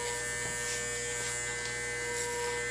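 Electric hair clippers buzz steadily and close while a child's hair is faded during barber training, a continuous even hum with no talking.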